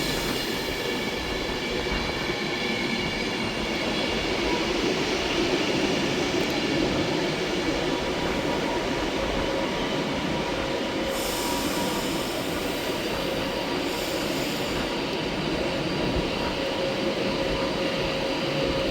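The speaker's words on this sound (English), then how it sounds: "arriving in here is 390-011, working the service to Manchester Piccadilly from London Euston" A Class 390 Pendolino electric train pulls into Stoke-on-Trent station on a London Euston to Manchester Piccadilly service, a steady broadband rumble of rolling stock holding loud and close throughout, with faint wheel squeal and no talk.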